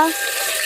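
A bay leaf hits hot oil in a cooking pot. A loud, close hiss of frying bursts out briefly and holds steady.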